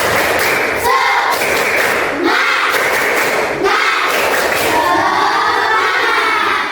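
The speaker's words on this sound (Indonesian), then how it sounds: "Lagi tepuk semangat." Schoolchildren in an Islamic religious education class repeat the 'tepuk semangat' clapping chant, shouting energetically together with sharp unison claps at regular beats, loud and close.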